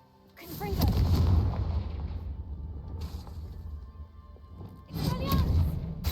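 A Confringo blasting spell cast in Hogwarts Legacy lands as a loud fiery burst with a crackling tail, followed by a second blast near the end, over game ambience.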